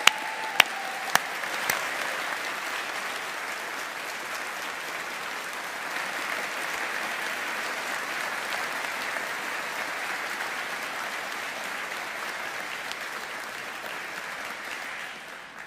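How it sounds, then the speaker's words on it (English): An audience at a 2024 business school graduation ceremony applauds its graduates, steady dense clapping from a large hall crowd held at an even level for about fifteen seconds after a few sharp opening claps, tapering off at the close. "offering our heartfelt congratulations to our graduates of 2024 for their collective achievements and success with a round of applause"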